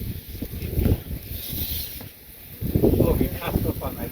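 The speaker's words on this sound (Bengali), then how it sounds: "এই পানার উপর তো নৌকা চালানো যায় না" A small boat is pushed through thick pond weeds and water lilies in a village pond, giving short rustling, swishing surges with voices nearby.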